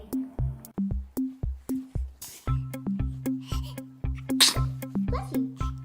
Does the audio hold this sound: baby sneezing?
yes